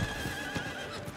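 A horse neighs in the action RPG Diablo 4, a short whinny heard alone and fairly close amid the game's ambient backdrop, with faint hoof-like thumps underneath.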